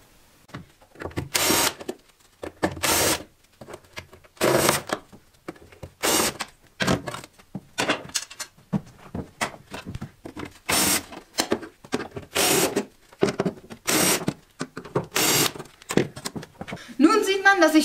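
Screws being unscrewed from the two fuel tank access covers of a BMW E36 325i convertible, each held by four Phillips screws: a run of short, sharp scraping and clicking bursts at a steady pace, close by, with someone talking between them.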